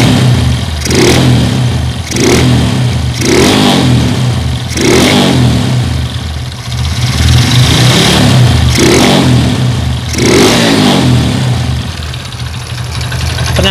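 A Honda Supra Fit motorcycle engine fitted with a Supra X 125 carburetor idles loudly and close by, blipped with about nine short throttle revs at a steady rhythm.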